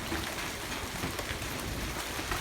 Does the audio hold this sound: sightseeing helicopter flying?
no